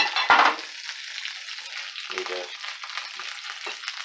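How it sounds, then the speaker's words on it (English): Bacon frying in a pan gives a loud burst of sizzle at first, then settles into a quieter, crackling spatter with a few sharper pops, heard close with no speech. "Check my bacon."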